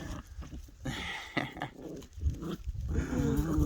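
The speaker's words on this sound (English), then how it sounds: "She's eating the other dog again." Dogs play-fighting at close range, with a steady stream of growls, snarls and scuffling that rises in loudness toward the end.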